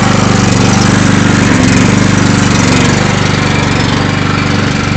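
A portable generator engine runs loud and close after the choke is switched off, a steady, throbbing drone with a faint shift in pitch partway through and no voices.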